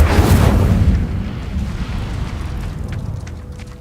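The Incendio fire spell is cast in the Hogwarts Legacy video game, bursting out with a heavy whooshing boom and a roaring blast. The blast fades into a crackling rumble.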